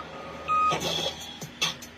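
Fire trucks backing up, a steady electronic reversing beep sounding briefly before a louder rumble of engine and street noise takes over, with a few short sharp bursts near the end.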